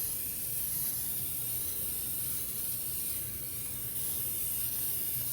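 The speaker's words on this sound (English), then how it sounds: "I'm going to spray it with some spray so it won't stick." Cooking spray is sprayed generously onto a hot indoor grill, a continuous close, loud hiss that holds steady throughout with no talk over it.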